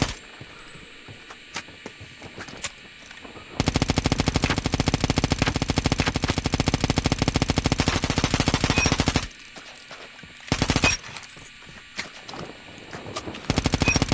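Call of Duty machine gun firing in long rapid automatic bursts, loud and close, with a shorter burst later and quieter gameplay sounds between them.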